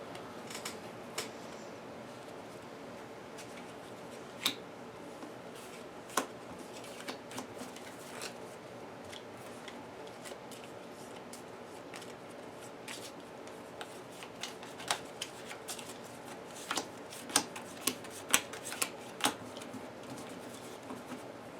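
Arkham Horror card game cards being handled and shuffled on a table, soft riffles and sliding with scattered sharper ticks and taps, faint and close, growing busier toward the end.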